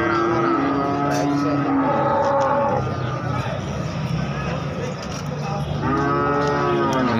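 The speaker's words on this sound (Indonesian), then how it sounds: "Ini ada sapi doro ini guys." Several cattle moo loudly and repeatedly at a livestock market in Jaken, long drawn-out calls over a busy crowd murmur and background engine noise.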